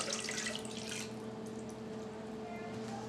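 Water splashes and trickles into a container, brighter at first and then settling into a quieter steady pour with faint drips.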